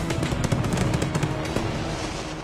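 Fireworks mortars fire in a rapid crackling series during a night pyrotechnic show in Barcelona, dense overlapping pops and bursts sounding loud and continuous with no clear gaps.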